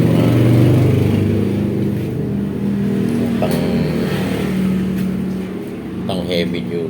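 A heavy-duty Zacchi air compressor motor runs steadily just after being switched on, a loud continuous hum with a low droning tone, while a voice talks over it and faint clicks surface near the end.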